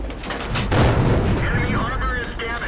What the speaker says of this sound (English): Fire a blind shot.